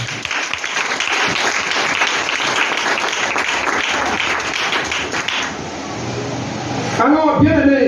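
A church congregation applauds in dense, sustained clapping for several seconds, then it fades as a voice comes in near the end.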